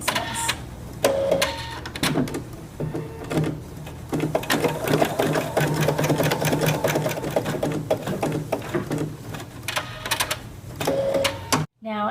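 A Creative Sensation Pro sewing machine stitches buttonholes in rapid mechanical bursts, with steady runs broken by short pauses and a brief stop near the end.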